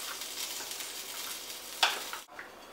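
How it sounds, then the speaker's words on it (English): Tomatoes stirred into a pot of bear chili with jalapenos and onion, a steady soft sizzle and scrape of stirring running throughout, with one louder clink near the end before it quiets. "Stir all those nice tomatoes in there."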